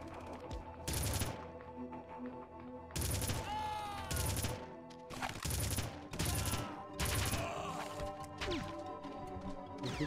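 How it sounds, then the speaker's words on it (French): Enemy gunfire rattles at the player in the first-person shooter Red Faction, loud bursts of automatic fire arriving in repeated clusters over a steady game soundtrack. "Qu'est-ce qui me tire dessus?"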